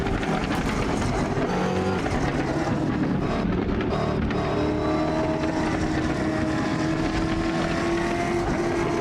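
Race car engine in Automobilista 2 droning loudly and steadily from onboard, with a rising whine as revs climb and a brief dip mid-way, no talking over it.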